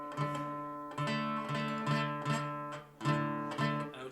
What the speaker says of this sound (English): if you don't know how to play guitar at all, and you're just trying to figure out a chord, then your chord sounds like this